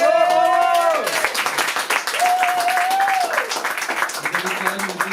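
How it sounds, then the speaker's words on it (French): Audience applause at an evening performance of a song, mixed under a loud, sustained sung or voiced tone, with the clapping continuing throughout beneath the voice. "on peut les applaudir quand même"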